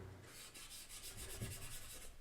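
Paper rubbed over a charcoal portrait drawing to blend the shading, a quiet, steady scraping with soft repeated strokes, close and alone.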